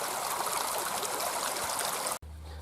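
Fast-moving stream water at a beaver trapping spot, a loud, steady rushing wash filling the clip before cutting abruptly to a low hum.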